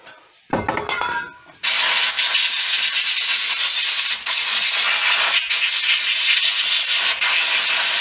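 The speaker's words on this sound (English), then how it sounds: "we'll just get the airline to give that a go over" Compressed air line blasting over the rear brake parts of a 2006 Peugeot 206 1.4 HDi: a loud, steady, close hiss running several seconds with brief dips, after a short clatter of metal tools.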